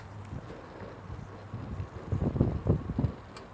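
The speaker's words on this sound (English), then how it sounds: "Oh, it's windy." Outdoor wind buffets a microphone at a cooking demonstration, a steady low rumble swelling into stronger gusts toward the end, with no talk over it.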